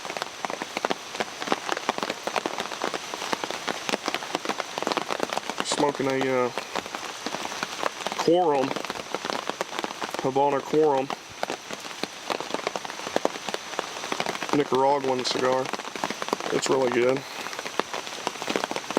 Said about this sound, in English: just came down here to sit in the rain like lunatics